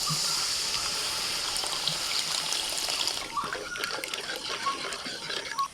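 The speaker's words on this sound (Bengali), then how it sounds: "এবার দিচ্ছি জল।" Water is poured into masala frying in a pan for a Bengali pomfret curry, giving a steady trickling pour for about three seconds before it shifts into a quieter, broken bubbling and sputtering at close range.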